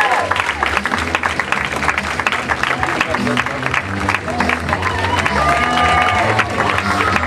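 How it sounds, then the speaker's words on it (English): A comedy-club crowd at the DC Improv bursts into sustained applause and cheering after a stand-up set, many hands clapping loudly and steadily with whoops mixed in, while a voice talks over the noise. "Big round of applause."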